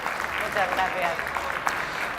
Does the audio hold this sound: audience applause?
yes